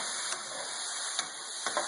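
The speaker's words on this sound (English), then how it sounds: "So it's sizzling really good." Garlic sizzles while frying in a pot for a vegan tofu and Creole tomato sauce, a steady bright hiss with a few small crackling pops, heard close and alone.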